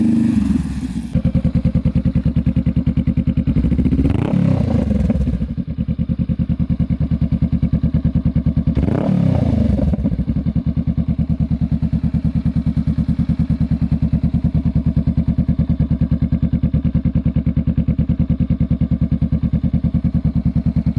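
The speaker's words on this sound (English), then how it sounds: "I can hear it already. Way much louder than my stock exhaust." A Honda Rebel 500 fitted with a Two Brothers Racing Comp slip-on exhaust idles with a loud, steady, deep burble, with two brief swells as it revs or passes close by.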